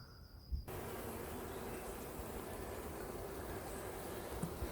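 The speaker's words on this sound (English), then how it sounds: "I reckon the bees that were in it have died off or swarmed, and this swarm's moved into the lid." A honeybee swarm buzzes inside a hive lid, a dense, steady close-up drone that fills the whole clip after a brief quieter start, with no voices.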